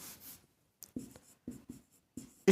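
Chalk or marker writing on a board during a Hindi history lesson, heard as a series of short scraping strokes in quick bursts with pauses between, fairly close and with no voice over them.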